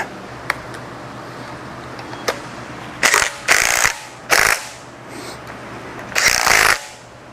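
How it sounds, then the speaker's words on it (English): A cordless power drill runs in several short, loud bursts separated by pauses, with faint clicks and handling noise in between, while assembling cylinder heads on a 408 stroker engine. "he's using a cordless drill on heads"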